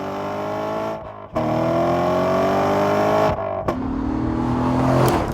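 A 2014 Chevrolet Corvette Stingray Z51 accelerating hard, its engine revving up through the range with a smooth rising tone, two brief dips at gear changes, then pulling strongly again, loud and close with no talk.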